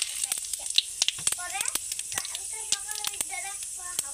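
Whole cumin seeds and a bay leaf sizzling in hot mustard oil, a steady close frying hiss scattered with sharp pops and crackles, with a voice murmuring faintly underneath.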